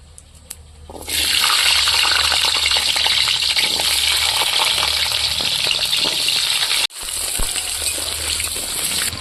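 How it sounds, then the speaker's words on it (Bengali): Whole cumin seeds and small whole onions hit hot oil for tempering a country chicken curry, setting off a loud, steady sizzle that jumps up after a second and runs continuously, with one brief dropout near the end. "তেলে ফোড়ন দেব গোটা জিরে আর দিয়ে দেবো এই যে গোটা পেঁয়াজ ছোট ছোট পেঁয়াজ"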